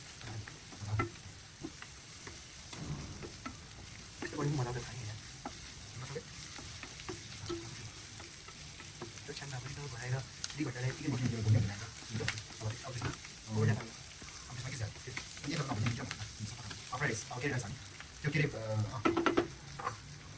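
Fried rice with vegetables being stirred in a hot pan, with steady sizzling and frying and repeated scraping stirs of a utensil against the pan, close and continuous, with a person talking intermittently over it.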